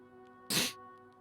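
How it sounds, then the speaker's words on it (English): A single short, sharp nasal sniff or sneeze-like burst close to the microphone from an allergic streamer, alone against a quiet background hum. "Sorry for sniffing."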